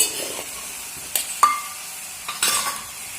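A metal spoon stirs spices into green egg curry frying in a pan, with a soft sizzle running underneath and a few scraping clinks against the pan.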